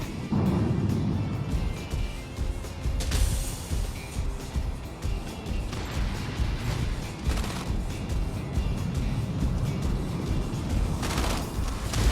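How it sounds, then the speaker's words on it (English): Rapid bursts of mech gunfire from the video game Mech Arena keep up dense, loud, continuous volleys throughout, layered with engine rumble and explosions and with no talking. "Incoming fire."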